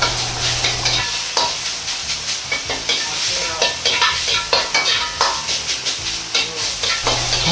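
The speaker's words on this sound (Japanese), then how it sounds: "お玉で上から押さえて、ひき肉を炒め、火を通していきます。" Ground meat stir-fries in a pan while a ladle presses it down, producing a loud, close sizzle with rhythmic repeated scraping and pressing pulses, roughly twice per second, and no speech.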